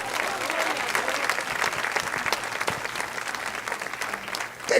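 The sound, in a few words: congregation applause in church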